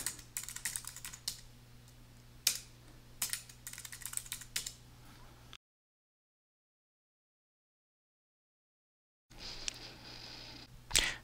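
Typing a username and password on a computer keyboard, close rapid key clicks in irregular bursts, with a silent gap midway before more keystrokes resume.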